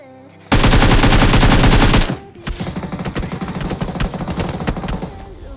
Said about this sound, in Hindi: ये सामने वाला पोरा अभी भी बहुत जोर से गोली चला रहा है